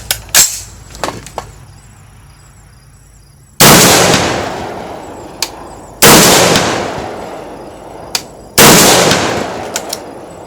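Three loud gunshots at a shooting range, spaced roughly two and a half seconds apart, each a sharp blast with a long reverberant tail, preceded by a few quieter clicks and knocks.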